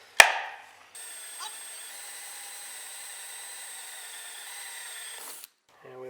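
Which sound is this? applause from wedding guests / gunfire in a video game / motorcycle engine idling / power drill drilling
power drill drilling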